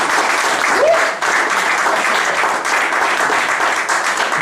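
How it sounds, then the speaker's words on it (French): A church congregation applauds together, a dense, steady wash of clapping that carries on throughout with only slight dips in intensity. "Applaudis le Seigneur."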